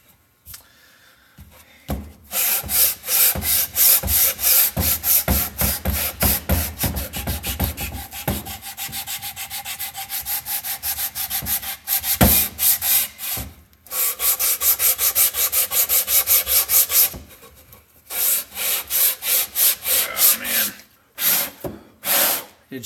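A wooden book box is sanded by hand around a small joint, giving close, steady rasping strokes in quick rhythmic runs with a few short pauses between bursts.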